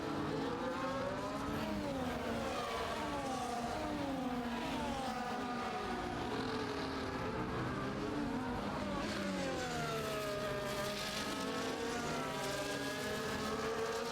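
F1 race cars in the F1 24 game scream past with high, rising and falling engine notes, several cars overlapping and sweeping by continuously without any voices.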